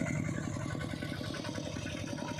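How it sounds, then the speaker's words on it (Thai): A tractor engine idles steadily with a regular low chugging, thumping rhythm in a rice field, close and fairly loud, with no voices. "รถไถสองคันพี่น้องเลย"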